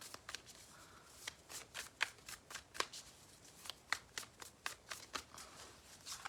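Tarot cards being drawn and shuffled by hand, a quick run of crisp papery flicks and snaps at an uneven pace, close and fairly quiet, with no talking.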